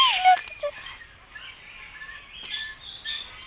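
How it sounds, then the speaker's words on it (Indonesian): Yellow birds at a safari park give a few short, sharp chirps near the start, then fainter calls sound later against quiet, open background noise. "Ada burung warna kuning tuh banyak."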